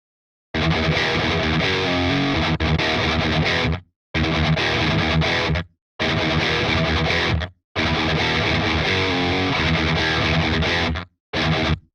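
An electric guitar runs through the Audiority Solidus VS8100 distortion plugin on its hiss switch setting, playing loud, heavily saturated phrases in several bursts separated by abrupt silences.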